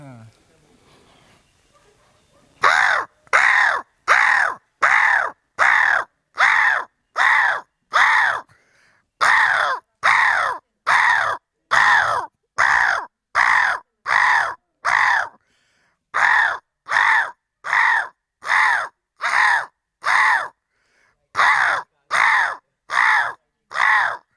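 A voice imitates a crow's caw, repeating harsh, evenly spaced calls in a long steady series with a few brief pauses, loud and close.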